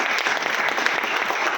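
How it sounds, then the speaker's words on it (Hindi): Audience applause at a live seminar in Surat, Gujarat: a dense, steady wash of many hands clapping close by, even and sustained throughout without a break. "तो एक बार एक जोरदार ताली सबसे पहले तो आप अपने लिए बताइए"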